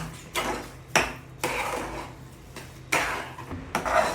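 Semiya mixture with ghee being stirred in a pan, a spoon giving several scrapes and clinks against the metal at an uneven pace, close by with no voices.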